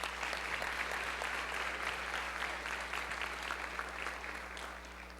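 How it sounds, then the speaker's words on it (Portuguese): A church audience gives a round of applause to welcome the church's baker, with sustained, even clapping filling the room and a low electrical hum underneath. The clapping tapers slightly toward the end. "Vamos receber a boleira com uma salva de palmas."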